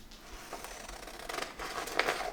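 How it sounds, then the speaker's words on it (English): Half decent scissors snip along the folded edge of a paper square, giving a few short crisp cuts that grow louder toward the end, close up with no talking. "Half decent scissors, and then I just cut"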